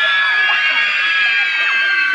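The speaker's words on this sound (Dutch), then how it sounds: "Gillen jullie allemaal tegelijk maar even." An audience of children at an outdoor festival show screams together on cue, a loud, continuous, high-pitched wall of shrieks that holds for its whole length with no break.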